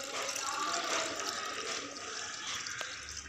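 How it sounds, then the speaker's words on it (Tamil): Watermelon juice pours over cut watermelon pieces in a continuous, soft liquid stream, close by and fairly quiet, with no talking over it. "இப்போ நம்ம வெட்டி வச்சுருக்க அந்த பழத்திலே ஊற்றலாம்."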